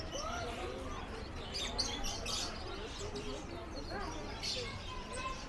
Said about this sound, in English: Right, a lot of birds here.